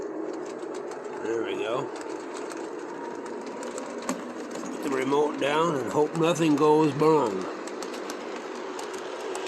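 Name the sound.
model train, ES 4400 AC locomotive pulling heavy train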